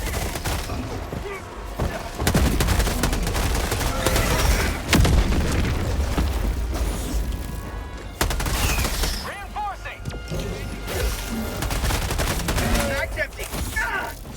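Dense, continuous shooter-game gunfire with rapid bursts, booms and explosions layered throughout, loud and chaotic, with a voice talking over parts of the action.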